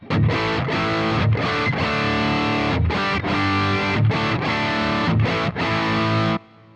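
High-gain electric guitar rhythm tone from a Boss GT-1000 Core running two amps in dual mode: heavily distorted chugging chords with brief gaps between phrases, loud and close, ending abruptly.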